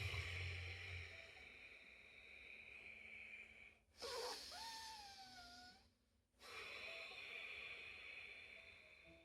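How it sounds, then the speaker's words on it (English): Slow, steady yogic ujjayi breathing with a constricted throat, a soft oceanic hiss that rises and falls in long waves, with a brief pause near the middle; no one speaks over it. "you bring a slight restriction to the back of your throat so that your breath sounds more wave-like, more oceanic"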